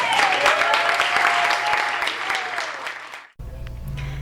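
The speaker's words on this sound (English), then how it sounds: "How about a round of applause for Nubia?" Bookstore audience applauds Nubia at the close of an author reading, a dense, steady round of clapping that cuts off abruptly near the end, followed by a short low hum.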